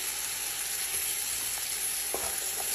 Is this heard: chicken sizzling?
yes